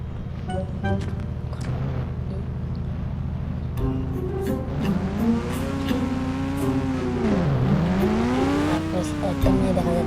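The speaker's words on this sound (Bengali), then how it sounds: "বাইকটা একটু চালাই আসি।" A motorbike is ridden along, its engine droning steadily and rising and falling in pitch with revving, close and continuous, with some background noise.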